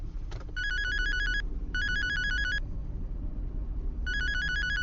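A phone rings in a tense horror scene, its electronic trilling tone coming in three short bursts separated by pauses over a low, rumbling background, moderately loud and clear.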